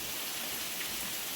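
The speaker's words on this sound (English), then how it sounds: "and the rain, thunderstorm" Rain falls during a thunderstorm in Jamaica as a steady, even hiss of drops on surfaces, moderately loud and continuous over a brief span, with no voices.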